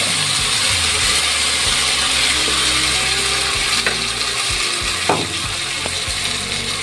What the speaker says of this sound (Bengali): এবার এর মধ্যে জিরে আদা লঙ্কা টমেটো দিয়ে ভালো করে কষাতে হবে।